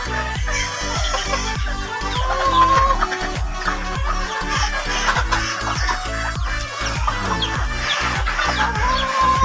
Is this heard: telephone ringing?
no